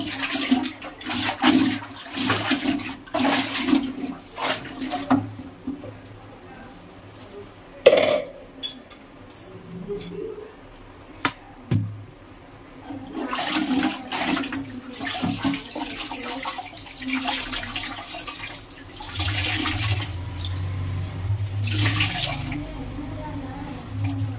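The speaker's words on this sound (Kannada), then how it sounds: "ಮಾಪನ್ನ ಫಸ್ಟು ವಾಶ್ ಮಾಡಿಬಿಡ್ತೀನಿ" A floor mop used for wiping the house is rinsed under running water in a home, producing steady splashing and gushing with intermittent sloshes and knocks, fairly close and continuous throughout, with a deeper rush of flowing water toward the end.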